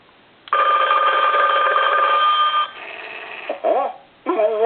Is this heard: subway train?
no